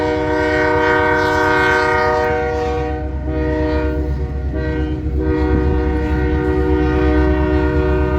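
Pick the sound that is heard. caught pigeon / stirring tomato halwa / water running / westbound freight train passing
westbound freight train passing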